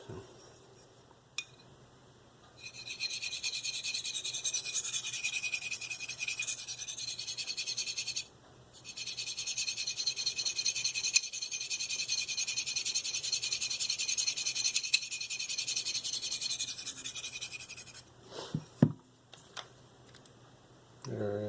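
An Eafengrow CH3001 knife with a D2 steel blade scrapes along a Spyderco medium bench stone in two long, sustained gritty passes separated by a short pause, followed by a few light clicks and handling noises close by.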